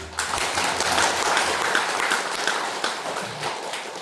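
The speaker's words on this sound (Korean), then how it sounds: "우리가 축복의 박수 한번" A church congregation gives warm, full applause during a Sunday service, building quickly and holding steady before tapering slightly, with no talking over it.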